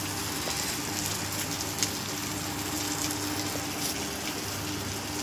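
Steady rain falls outdoors near a fish market setting as a continuous broadband hiss with scattered drop ticks, moderately loud and unbroken, no voices.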